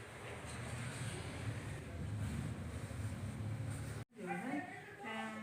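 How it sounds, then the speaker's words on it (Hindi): Cold wind blowing outdoors, a steady broadband rush of gusting air and microphone buffeting that runs for several seconds, then cuts off briefly before voices talk over it. "इतनी ठंडी हवा चल रही है"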